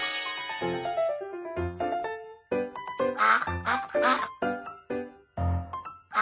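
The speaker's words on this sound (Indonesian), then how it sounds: "Bebek." A cartoon duck quacks several times in quick, raspy bursts, mixed in with bright, bouncy musical notes.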